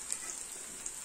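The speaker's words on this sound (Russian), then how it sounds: "Жарим с двух сторон достаточно быстро." Steady hissing sizzle of potato pancakes with egg frying in hot oil in a pan, with a few faint pops, close and continuous.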